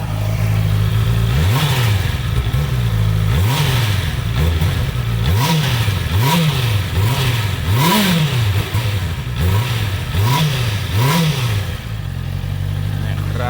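A 2017 Honda CB650F motorcycle engine is revved repeatedly in short bursts, about ten rises and falls in pitch, loud and close over a steady idle.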